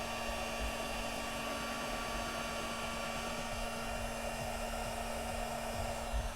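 A heat gun warms a thermoplastic Boba Fett vambrace piece, blowing a steady, loud, even whoosh with a faint whine running unbroken from start to finish, with no talking.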